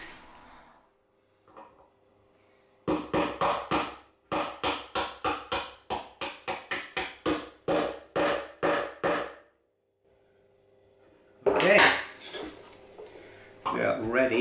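Bolts go onto the cabinet of a 1952 Fender Tweed Pro amp: a rapid, regular run of sharp metallic clicks and taps, then a pause and a louder brief clatter, close and dry.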